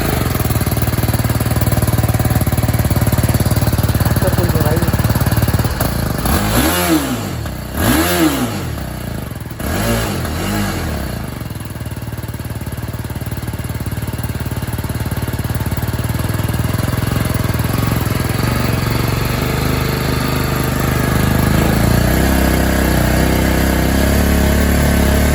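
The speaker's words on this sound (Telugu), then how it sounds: "ఒకసారి ఎగ్జాస్ట్ నోట్ కూడా విందాం." A 2024 BMW G310R motorcycle idling close by with a steady exhaust thrum, a couple of quick throttle blips rising and falling in the middle, then settling back to idle.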